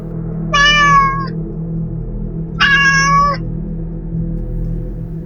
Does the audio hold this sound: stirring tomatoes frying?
no